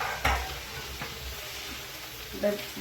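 Leeks and vegetables lightly sautéing in a pan for prawn noodles make a soft, fairly quiet sizzle with a few utensil clinks and stirring sounds.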